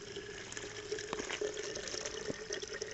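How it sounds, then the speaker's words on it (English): Water pressed through a Sawyer squeeze filter streams steadily into a water bottle, a faint continuous trickle with small splashy drips, close by and quiet, no talking. "And you just squeeze it right into the water bottle."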